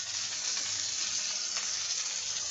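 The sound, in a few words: frying bhorta ingredients with salt in a pan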